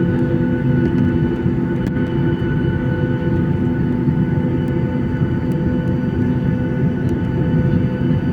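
Inside a Batik Air airliner cabin before takeoff, a loud steady engine and ventilation drone with a constant low hum and faint tonal whine, no speech.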